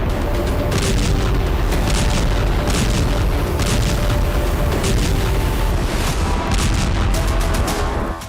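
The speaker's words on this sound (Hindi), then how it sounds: "यूक्रेन में ड्रोन और इस्कंदर जैसी मिसाइलों के धमाके हुए।" Heavy explosions from drone and Iskander missile strikes in Ukraine rumble as a dense, loud, continuous barrage of booms with no voices.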